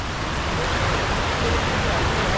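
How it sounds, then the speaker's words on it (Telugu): Water from waterfalls pours through a forest stream on the Andharban trek in Maharashtra, a steady, close, dense rush of white noise that carries on unbroken throughout. "సో ఇదంతా కూడా పైనుంచి వస్తున్న వాటర్ ఫాల్స్ నీళ్ళే అనమాట."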